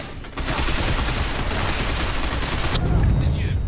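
Heavy sustained gunfire in the Binary Domain video game, a dense continuous barrage of rapid automatic shots and booms filling the whole stretch, loud and close.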